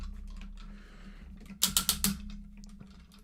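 Several sharp plastic clicks in quick succession as the wheels of a Transformers Armada toy are twisted round, close and distinct over a low steady hum, with a single further click at the end.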